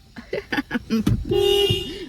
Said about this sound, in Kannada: ಲಿಯನ್ ಹಾರನ್ ಮಾಡೋದು ಅಪ್ಪ ಓಡಿ ಬರ್ತಾರೆ ಇವಾಗ